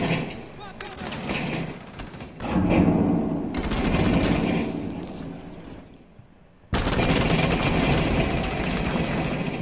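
Gunfire in Rainbow Six Siege, a video game: dense, loud and sustained automatic fire fills most of the stretch, briefly cutting out before resuming at full strength.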